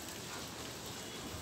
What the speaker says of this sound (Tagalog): Medyo umuulan, pero pwede na yan.